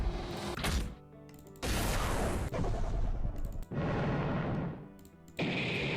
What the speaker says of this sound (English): I would put an explosion very gladly.